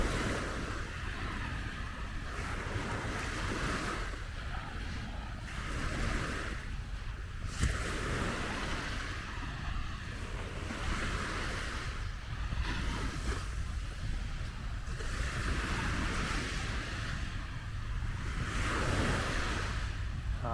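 Waves wash steadily onto the beach at Los Barriles, Baja California Sur, a constant broad surf roar with gentle swells and some wind buffeting the microphone, heard alone.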